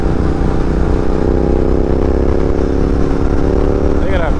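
A Royal Enfield Continental GT 650 twin-cylinder motorcycle engine runs at a steady, loud drone throughout while being ridden, with a voice talking over it.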